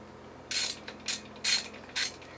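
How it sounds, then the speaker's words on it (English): Ratchet snugging pulley bolts on an AC Nitro 200 engine during clutch work, four quick clicking bursts in an uneven rhythm, close and fairly quiet over a low hum. "Put the top pulley back on. We're going to snug these down just a little bit."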